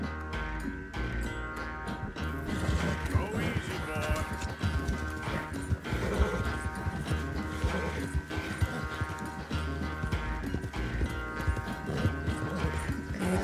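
Horse hooves clip-clop steadily in Red Dead Redemption 2, a continuous rhythmic patter set under game music and ambient sound with a droning tone.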